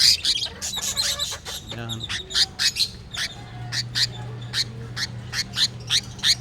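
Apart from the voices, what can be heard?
stressed pet bird squawking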